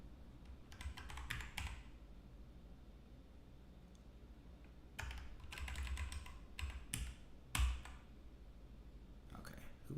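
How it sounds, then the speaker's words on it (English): Someone types on a computer keyboard in bursts of rapid clicking close by, separated by pauses with faint background hum. "Because I am bad at typing."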